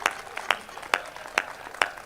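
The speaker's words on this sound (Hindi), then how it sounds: "तालियां बजा दो तो बजा दो" A handful of people in a poetry-show audience clap in a slow, steady rhythm, five sharp claps spaced about half a second apart, with no cheering or voices.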